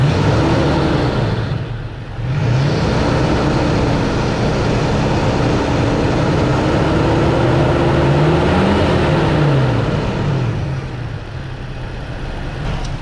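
A Nissan G35 engine with a quiet rod knock idles with a steady low rumble, then is revved up and back down in one smooth rising and falling swell, loud and close.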